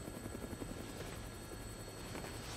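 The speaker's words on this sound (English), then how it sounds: "Looks like taking a helicopter was the way to go." A helicopter in the video game Dead Rising Deluxe Remaster drones with steady rotor chop and engine whine, loud and constant throughout with no speech.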